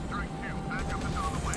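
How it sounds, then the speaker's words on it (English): A helicopter in the shooter game Modern Combat 5 drones with a steady rotor and engine hum, while a voice talks over it and brief game effects chirp intermittently. "I want to kill this dirty helicopter"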